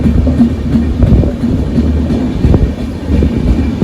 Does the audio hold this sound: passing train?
yes